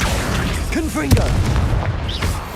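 In Hogwarts Legacy, a Confringo explosive spell lands as a single sharp boom amid swooshing magical tones, with a voice speaking around it.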